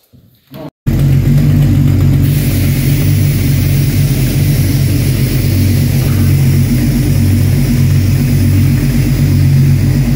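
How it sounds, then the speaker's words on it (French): A BMW E36 turbo on air ride suspension fires up after a brief near-silence, then settles into a loud, steady, deep idle rumble close by. "Attends, elle démarre l'auto."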